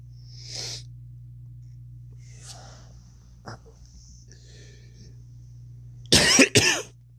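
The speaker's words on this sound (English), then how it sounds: "Sorry for the cough." After quiet breathy noises, a person coughs loudly twice in quick succession, close by.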